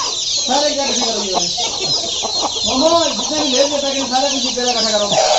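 A desi rooster clucking loudly and repeatedly up close, with a constant hiss of background noise and some voices mixed in.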